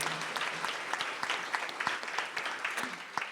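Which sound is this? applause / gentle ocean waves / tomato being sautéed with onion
applause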